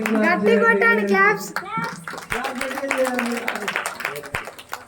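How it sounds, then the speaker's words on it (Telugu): Children clapping in a group, with a voice talking first and then a burst of scattered hand claps that continues through the rest. "క్లాప్ చేయండి"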